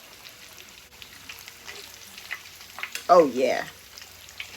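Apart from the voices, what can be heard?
pickles deep-frying in oil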